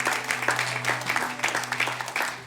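Applause from a church congregation cheering Jesus during a Sunday service: dense, steady clapping from many hands, fairly close, with a sustained musical tone underneath.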